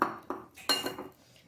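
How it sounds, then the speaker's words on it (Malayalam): A spoon scrapes and clinks against a pan while coriander powder is roasted and stirred in a home kitchen, giving three or four distinct close metallic strokes with short pauses between. "ഞാൻ മല്ലിപ്പൊടി വറുക്കുന്നുണ്ട്."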